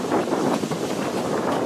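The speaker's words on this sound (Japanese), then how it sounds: "この日上空は強風が舞っておりました" Strong wind buffets the microphone in a continuous rumbling roar over a baseball field, loud and unbroken, with no other sounds.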